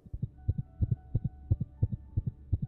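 A fast, steady heartbeat near maximum heart rate, deep low thumps in quick double pulses repeating evenly over a faint hum.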